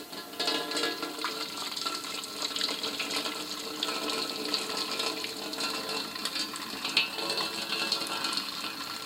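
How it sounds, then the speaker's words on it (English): Water from a pan of cooked spaghetti pours out in a steady, continuous rushing stream at close range, with faint clinks and no talking over it. "we're ready to shut the heat off and drain the pasta"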